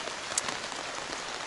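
Rain falls steadily on a morning in Dharamshala, a dense, even patter of drops on surfaces, close and continuous with no voices.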